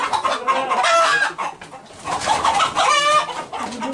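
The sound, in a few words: KUB Kampung Unggul chickens clucking, rooster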